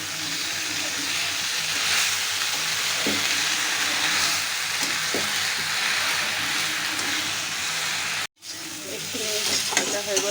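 Ingredients frying in a pan sizzle with a continuous hiss while a spoon stirs and scrapes, close up and steady, broken by a brief dropout near the end before the scraping resumes.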